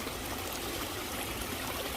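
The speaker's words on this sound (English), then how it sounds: "you can't see none of the waterfall" Waterfall trickling into a backyard fish pond at a fish rescue, a steady soft splashing wash of water running continuously with no talk.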